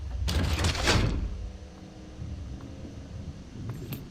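A keycard door in a video game slides open with a loud whooshing rumble that fades into a low hum, followed by a faint click near the end.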